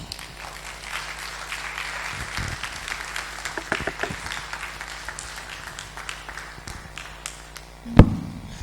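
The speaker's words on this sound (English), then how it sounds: "A round of applause for him, please." An audience at a 2020 business outlook session applauds steadily after a speech, a dense patter of clapping that thins out toward the end, with one sharp loud knock or thud near the close.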